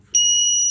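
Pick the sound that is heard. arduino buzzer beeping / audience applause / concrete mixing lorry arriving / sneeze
arduino buzzer beeping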